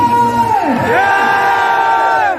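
A large crowd at a motivational speech event roars "Jai" in unison on command, a loud sustained collective shout that swells and holds for a couple of seconds.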